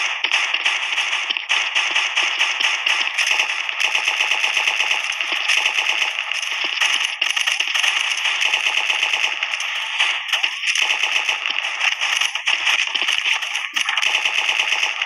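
Rapid automatic gunfire in a shooting video game, loud and continuous with dense bursts and only brief gaps, game effects layered throughout.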